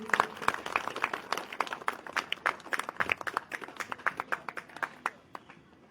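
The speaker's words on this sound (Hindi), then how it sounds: "आप सभी को तालियां स्वागत कीजिए" Scattered audience clapping greets guests at a Hindu gathering, with distinct individual claps from a modest crowd in a loose, irregular rhythm that thins out and fades toward the end.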